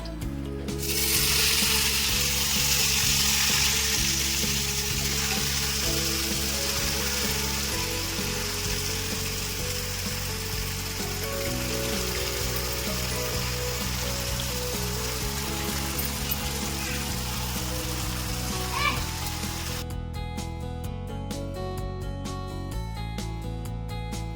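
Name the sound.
chicken, spices and curry leaves frying in oil in a pan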